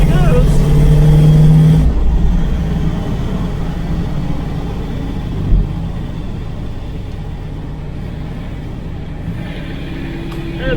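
A 1970 Camaro with a V8 drives along, its engine rumbling loud and steady, strongest in the first two seconds and then settling into a lower continuous drone, with a brief thump midway.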